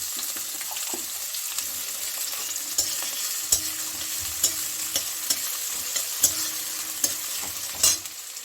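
Continuous sizzle of onions frying, punctuated by regular clicks and scrapes of a spoon stirring against the pan.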